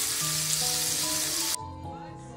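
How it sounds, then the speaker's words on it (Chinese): Pan-fried dumplings sizzle steadily in a hot pan, a loud continuous crackle that drops abruptly partway through, leaving a quieter, softer sizzle with faint background tones. "我们把这几个去先煎一下"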